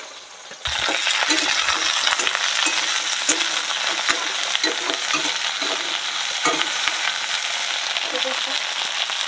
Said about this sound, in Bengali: তো পটলগুলো ভালো করে ভেজে নিই